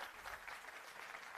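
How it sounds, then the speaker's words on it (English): Audience applause at a Cloud Community Days tech conference in Bhopal: a steady, dense round of clapping from a seated crowd, fairly even throughout with no voices over it. "I think a big round of applause to everyone who have seated here."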